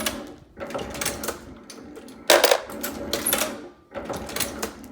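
A loading machine runs after being started, giving repeated bursts of mechanical clatter and broadband rattling separated by brief quieter gaps, close and fairly loud with no talking.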